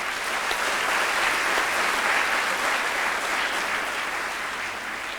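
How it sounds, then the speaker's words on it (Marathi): An audience at the VEDH Latur 2015 event claps loudly and steadily for the organizing committee, a thick, sustained wash of many hands that eases slightly toward the end. "आपण वेदच्या संयोजन समितीला जोरदार टाळ्या देऊन एक दाद देऊया"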